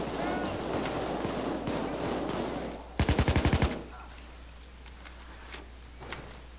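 Gunfire rattles in the video game Payday 2, a quick automatic burst of about seven shots that stands out over quieter game sounds and earlier chatter, followed by faint scattered noises.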